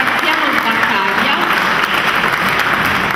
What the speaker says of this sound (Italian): Prego, potete fare intanto l'applauso.